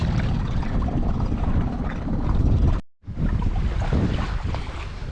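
A small dinghy motoring across an anchorage toward a beach, steady engine drone and heavy wind and water rush, with a brief dropout midway, no talk.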